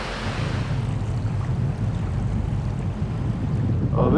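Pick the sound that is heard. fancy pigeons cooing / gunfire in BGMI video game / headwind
headwind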